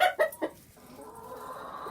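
A few sharp hen clucks in quick succession, fairly close, then a softer, continuous murmur of fowl in the background.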